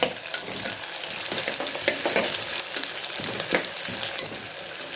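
Sliced onions fry in a pan for a mutton curry, with a loud continuous sizzle, crackle and occasional stirring scrapes, close up and with no talk.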